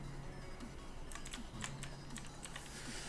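Rapid computer keyboard clicking during a Pokémon Reborn game session, a quick irregular burst of light clicks over a low, quiet background hum.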